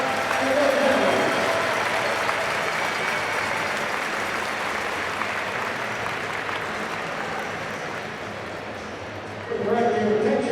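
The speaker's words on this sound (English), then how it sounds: "Give a nice round of applause for the RPI engineers and their families." Sustained crowd applause in a hockey arena fills the air, a steady broad wash that eases slightly toward the end before a louder surge with some voices over it.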